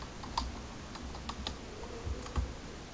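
Fast keystrokes on a computer keyboard as a Google search is entered, a quick irregular run of close clicks and taps over about three seconds with no talking.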